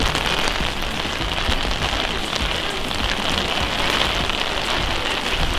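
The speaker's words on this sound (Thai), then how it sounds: "ตอนนี้ฝนตกหนักนะครับ" Heavy rain pours down steadily in the old walled town of Saint-Malo, a dense continuous hiss of drops pattering on surfaces with no voices.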